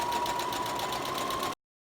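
A sewing machine runs steadily along a coat seam for about a second and a half, with an even, buzzing hum at close range. It then stops abruptly into silence.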